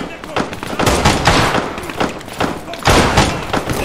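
Rapid gunfire bursts and heavy thuds from a military video game's combat, loud and close, coming in repeated volleys over roughly four seconds with no clear voices.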